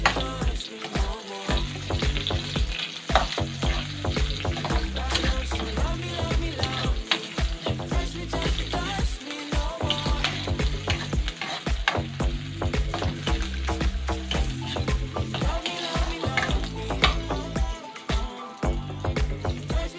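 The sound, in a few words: onion frying in a pan for chicken curry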